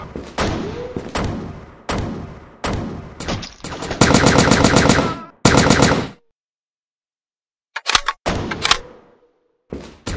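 Heavy gunfire from the video game IGI 3: several single loud shots, then a long sustained automatic burst and another short volley, a pause of silence, and a few more close shots.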